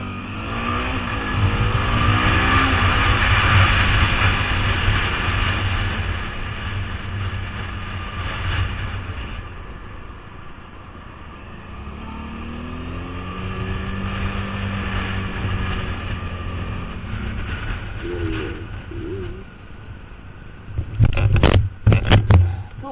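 A Suzuki V-Strom motorcycle riding on an open road: a loud, continuous engine drone with rising and falling revs and wind rush, easing off midway, then building again, ending in a few rough buffeting bursts.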